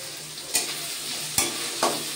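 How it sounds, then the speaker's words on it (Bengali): Papaya curry ingredients with cloves and cardamom frying together in a pan: a bright sizzle runs underneath while three sharp spatula clacks land against the pan at uneven intervals. "তো সবগুলো একসঙ্গে এবার ভালো করে ভেজে নেব।"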